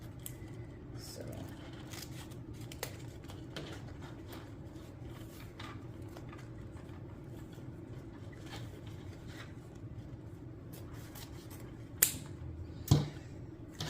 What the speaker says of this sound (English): I had to get new scissors.